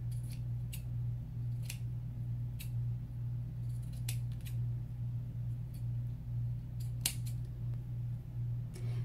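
Scissors snip lilac doll-dress fabric in a series of crisp, close cuts at an uneven pace, heard over a steady low hum with no talk.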